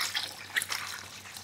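Water trickles and splashes while a whole pineapple is scrubbed and washed by hand, with light drips and irregular splashes close by and no talking.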